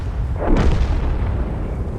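Bourrasque tank cannon in World of Tanks: a single heavy boom with a sharp onset and a short rumbling decay over steady engine noise.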